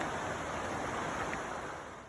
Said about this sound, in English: you can hear the water down there